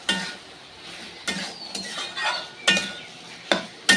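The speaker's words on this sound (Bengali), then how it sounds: "আরেকবার নেড়ে নেবো মাংসটাকে" Chicken pieces with salt are stirred in a pan on low heat, with five or six distinct metallic scrapes and clinks of a spoon against the pan over a faint quiet sizzle, close up and no talking.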